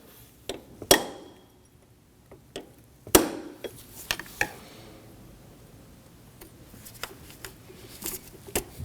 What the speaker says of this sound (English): you can go ahead and use a punch and a hammer